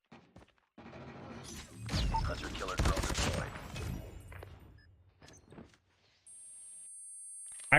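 An SKS rifle in Call of Duty Mobile fires within a dense burst of gunfire and game effects during a championship finals match, followed by quieter clatter and a steady electronic tone.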